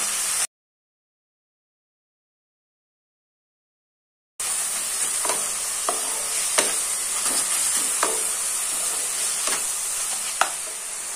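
Chopped tomato and onion frying in a pan: a steady bright sizzle with scattered stirring clicks and scrapes, following a short silent gap.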